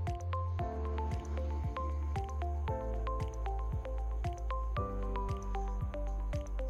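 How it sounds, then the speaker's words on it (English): A lab pipette repeatedly draws and expels a cell suspension from a conical tube during blood cell isolation, giving a quiet, rhythmic series of soft wet squishes and drips at a steady pace. "Pipette up and down to pick up any leftover cells."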